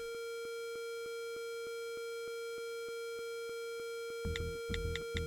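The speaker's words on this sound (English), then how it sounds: "It's the siren that sounds when a large amount of mana has been detected" A steady electronic alarm tone with a rhythmic pulsing pattern sounds continuously, then a few heavier thumping bursts break in near the end; the siren signals that a large amount of mana has been detected.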